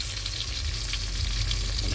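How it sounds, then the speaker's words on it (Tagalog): Fish fries in a pan of hot oil, giving a dense, continuous close-up sizzle with light crackles and no talk. "Ito yung prito natin."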